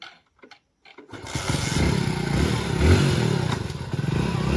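A motorcycle engine starts up after a few faint knocks, then runs at a steady, loud idle with a rough low putter that swells briefly near the end; no one speaks.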